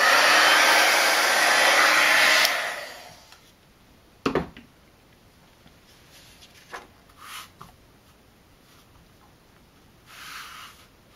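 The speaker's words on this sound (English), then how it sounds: "we're going to take an embossing heat gun here and melt this embossing powder" An embossing heat gun blows loudly while melting embossing powder on heat-resistant acetate, a steady roar for about two seconds before it switches off, followed by scattered clicks, taps and light handling sounds.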